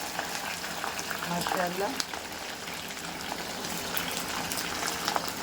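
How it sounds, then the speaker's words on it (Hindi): Chicken sizzles steadily in hot oil in a kadahi, a dense bubbling crackle that stays constant throughout while a voice speaks briefly over it. "चिकन फ्राई करके निकालना है"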